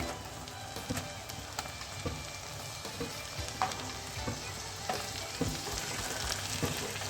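Steady sizzling of chopped tomatoes frying in a pan, with faint stirring clicks and scrapes scattered throughout, close and continuous with no talking.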